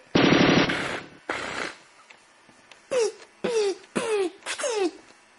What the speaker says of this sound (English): MG42 appeared.